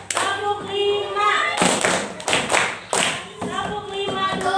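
Schoolchildren in a classroom clap together in a set rhythm, with several loud, close group clap bursts between stretches of a teacher's spoken instructions.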